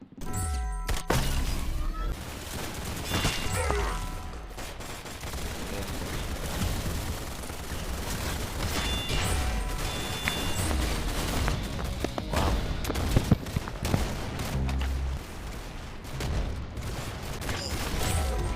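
Dense, continuous gunfire in the Roblox shooter Arsenal, rapid cracks and bursts packed together with scattered louder shots, sustained at a steady loud level throughout with no clear voice.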